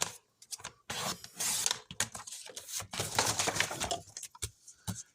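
Scissors snip through paper for a scrapbooking project in quick bursts of crisp cutting and rustling, close up and fairly quiet, with short pauses between strokes and no speech.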